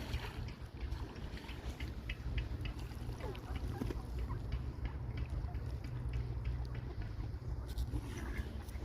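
Ducks quacking and honking in short calls in a park in Lutsk, Ukraine, over a steady low engine-like rumble, fairly faint and outdoors.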